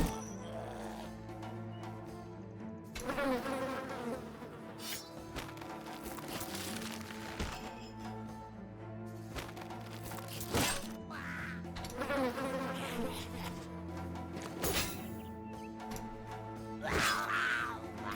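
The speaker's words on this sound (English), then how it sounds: "Swarm of insects." Insect swarm buzzing in the Battle Brothers video game, a droning hum running under the whole stretch with sharper game sounds and bursts layered on top.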